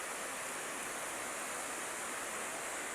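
Water flows steadily along the Wawa river, a constant broad rushing hiss with no break or voices, moderately loud and even throughout.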